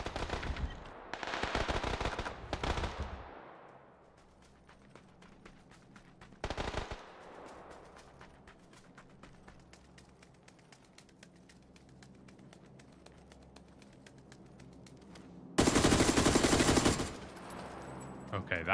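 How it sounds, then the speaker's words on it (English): Automatic weapon fire in the PUBG video game, with loud rapid bursts near the start, a short burst around the middle and a dense final volley near the end over a low game ambience. "Gun is shooting pure wind."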